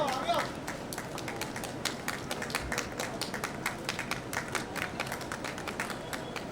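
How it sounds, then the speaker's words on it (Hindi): Audience applause at a plant festival event, a dense steady patter of many hands clapping throughout at moderate level, with scattered sharper claps standing out and a voice briefly audible at the start. "एक बार जोरदार तालियां।"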